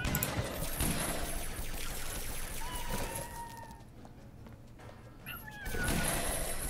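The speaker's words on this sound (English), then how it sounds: "You go, kitty cat." Cat meowing in the video game Fallout Shelter, a few short mews mixed into busy game sound effects and background music.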